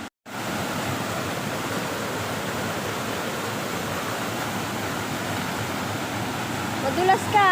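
Loud, steady roar of fast-rushing flood water in a farm creek fills the whole stretch, a dense broadband wash with no pauses, close by, during rain.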